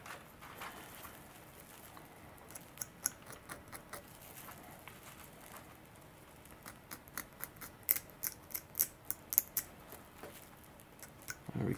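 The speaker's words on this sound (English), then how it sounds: "I like to make some kind of deeper channels with the end of my X-Acto knife, like crisscross kind of thing." An X-Acto knife tip scores deeper crisscross channels during a flap servo installation on a CCM Liberty F5J RC glider. Quiet, close scratching and ticking strokes come in irregular bursts that grow quicker and more frequent toward the end.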